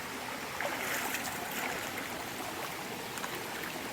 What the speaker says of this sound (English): It sounds like raging rivers over here.